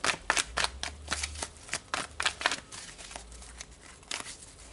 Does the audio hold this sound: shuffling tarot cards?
yes